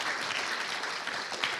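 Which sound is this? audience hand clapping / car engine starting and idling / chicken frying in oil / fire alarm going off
audience hand clapping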